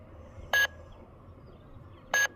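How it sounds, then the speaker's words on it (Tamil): Two short, sharp electronic alert beeps from a secret code lock, evenly spaced and loud against a quiet background. "இந்த மாதிரி நம்மளுக்கு அலர்ட் அடிச்சிடும்."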